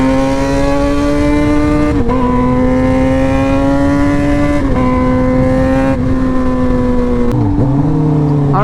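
Two straight-piped Suzuki GSX-R motorcycles, one a GSX-R 750 K5, revving loudly and close, a raw harsh engine drone rising in pitch through several throttle pulls with brief dips between them.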